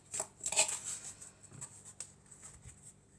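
Tarot cards being shuffled, quick soft riffling bursts near the start followed by lighter flicks and taps, close and quiet with no talking.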